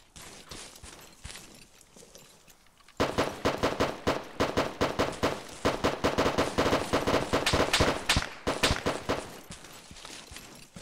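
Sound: tank fire in the video game ARMA 3

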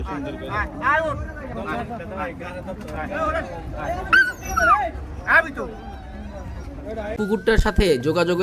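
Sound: dog whimpering and barking by river boat

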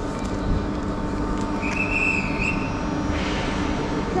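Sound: TGV train at Lille Flandres station

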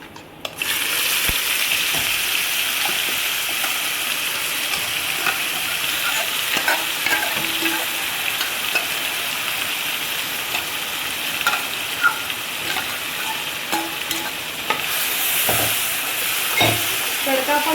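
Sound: ground tempering (tadka) added to pan, sizzling and stirring

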